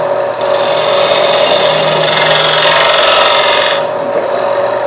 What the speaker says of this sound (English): Any other shaping is going to be done with sandpaper.